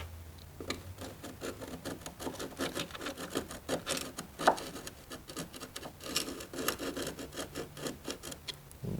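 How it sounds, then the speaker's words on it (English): A steel chisel scrapes and rasps grout from the edge of a tile on a Schluter foam shower pan, a run of short, fairly close scratchy strokes in an uneven rhythm with no talking. "Going to use my chisel just to take a little bit more of the grout out on the edge."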